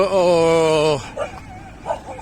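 A dog in a soil dump area near mangroves in Bintulu, Borneo gives one long, drawn-out howling bark up close, followed by a few faint, softer yips and noises.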